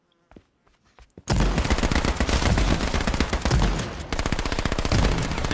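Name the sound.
gunfire in a battle royale video game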